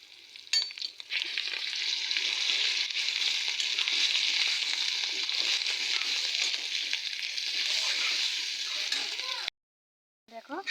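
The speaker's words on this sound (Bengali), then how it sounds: "তেল গরম হয়ে গেছে, এখন আমি বাটারগুলো দিয়ে" Fish roe frying in hot oil with butter in a pan, a loud, continuous close sizzle with crackles and occasional stirring that cuts off near the end as a lid goes on.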